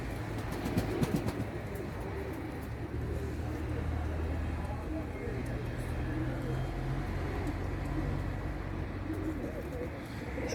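Racing pigeons coo steadily inside a loft, a low continuous murmur of many birds filling the space, with someone talking nearby over it.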